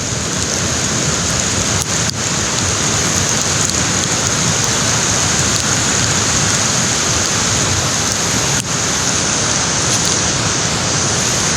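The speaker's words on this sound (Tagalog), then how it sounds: "Grabe yung lakas ng agos ng tubig." Loud, steady rush of a flooded river current in Floridablanca, Pampanga, fills the whole clip, a dense continuous roar like a powerful current surging close by, with no voices.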